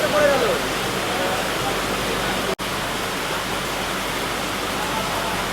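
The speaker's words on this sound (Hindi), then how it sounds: "लेकिन अभी देखो बढ़िया बारिश यहाँ पर स्टार्ट हो गई है।" Heavy rain pours down at a railway station at Dhanbad, a steady broadband hiss heard from aboard a Sealdah–Bikaner Duronto express train, constant and fairly close throughout, with one abrupt brief dropout midway.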